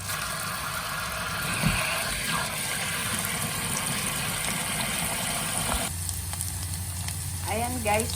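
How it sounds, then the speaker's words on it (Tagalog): Onion and garlic sauté in a pan as the base for a shrimp and salmon sinigang, a steady close sizzle and crackle holding throughout beneath a low background hum, with a voice briefly heard near the end. "magigisa muna tayo ng sibuyas at bawang para sa ating sinigang na hipon at salmon"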